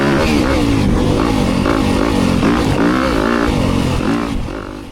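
A 2025 Yamaha YZ250FX dirt bike running a low-end map roars loud and close as it accelerates hard out of a corner, the engine note rising and wavering through gear changes before easing off at the end.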